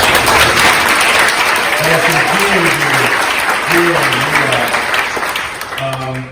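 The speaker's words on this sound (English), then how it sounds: "Let's give them another round of applause." A crowd claps steadily and loudly throughout, with a voice speaking over the applause in the middle and again near the end.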